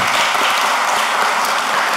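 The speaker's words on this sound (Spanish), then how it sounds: "Ramírez, de la Junta Patriótica Dominicana, para que te dé un aplauso." A crowd applauds steadily, dense clapping filling the whole moment at a loud, even level.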